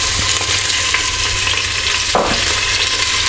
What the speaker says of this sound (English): we're just going to cook these onions through for about a couple of minutes, just until they start to soften slightly